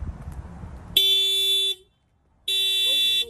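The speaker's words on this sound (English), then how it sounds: "Now when you press this one, the alarm will be on." A 2021 Honda Civic car alarm, triggered from the key fob, blares in two loud electronic horn bursts, separated by a short silence, close and harsh.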